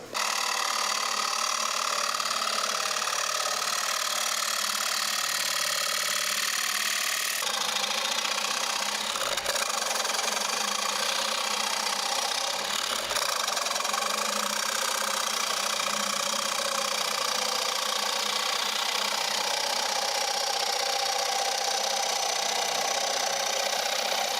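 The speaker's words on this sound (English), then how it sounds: "So now I'm just going to start to face this off and then start scooping out and turning this" A wood lathe spins a resin and wood honeycomb bowl, a continuous loud whirring drone with a steady mechanical hum and the scrape of the tool cutting, shifting in tone partway through, with no talking.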